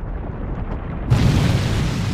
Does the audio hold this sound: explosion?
yes